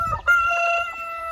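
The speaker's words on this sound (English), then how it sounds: "We got a hen here." A backyard hen gives a short, clear, drawn-out call, close and moderately loud, with no talk over it.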